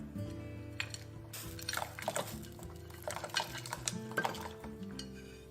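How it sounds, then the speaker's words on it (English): A spoon stirs hot chocolate ingredients in a pot, with quiet scraping and repeated clinks of metal against the sides in an uneven rhythm, close but faint. "go ahead and combine all your ingredients until everything's properly dissolved."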